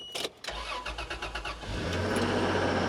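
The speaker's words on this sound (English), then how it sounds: "All right, Land Cruiser, you're gonna start." A junky old Toyota Land Cruiser cranks with a rapid rhythmic chug of the starter for over a second, then catches and settles into a steady, rumbling idle, close and fairly loud.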